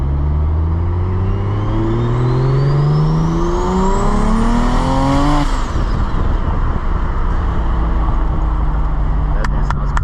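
A BMW engine revs loudly, its pitch climbing steadily in a long sweep before dropping off, with continuous road and wind roar underneath and no talking.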